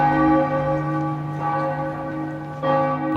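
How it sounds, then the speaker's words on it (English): Amiens Cathedral church bells toll, strong ringing strikes with long sustained humming overtones; a few strikes sound clearly and loudly within the short stretch. "On the ground, the bells in Amiens Cathedral began striking 12."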